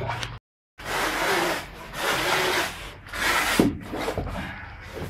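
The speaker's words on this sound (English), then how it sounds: "That's how you cut the carpet." A knife slicing carpet along a wall edge gives several long rough rasping strokes, close and fairly loud, with brief pauses between cuts.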